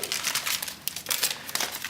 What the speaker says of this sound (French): On peut retirer le papier.